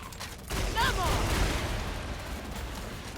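Rapid medic gunfire in Killing Floor 2 comes as a dense, continuous burst of shots with explosive rumble, heard under a voice talking.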